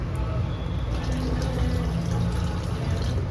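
Water pours steadily in a home kitchen during morning cooking, a continuous close splashing rush with no break.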